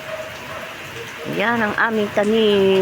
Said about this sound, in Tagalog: dire-diretso lang kasi yung ulan